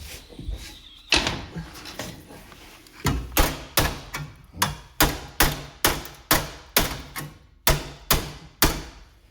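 Repeated hammer blows strike a Mazda endurance race car's bodywork, about a dozen sharp, loud metallic knocks in a steady, slightly uneven rhythm, close by with no talk between them.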